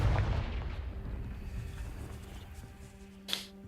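A Confringo explosion spell from a Harry Potter video game goes off as a heavy boom at the start, its rumble fading over several seconds before a brief bright crackle near the end.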